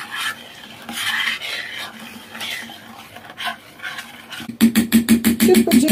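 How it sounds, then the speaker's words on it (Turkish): Ingredients are stirred together in a bowl with a utensil, a soft scraping that gives way to a quick run of loud, rhythmic clinks and rasps near the end. "Şöyle bir karıştıralım malzemelerimizi"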